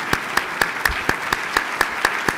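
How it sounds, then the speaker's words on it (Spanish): Steady applause from a crowd, with sharp claps standing out in a regular rhythm over a dense wash of hand-clapping. "Alberto, un aplauso y un reconocimiento a Alberto Lati."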